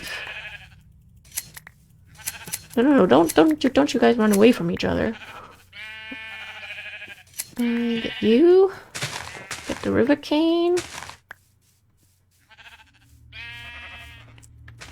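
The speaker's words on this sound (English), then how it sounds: "So many sheep." Repeated sheep bleats from Minecraft, some loud and close, mixed with a person talking over them; quieter stretches near the end.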